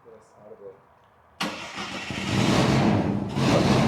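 Barn find car pulled from a shed, its engine cranking and catching with an abrupt roar after quiet moments of talking, then settling into a loud, rough running rumble with another rev near the end.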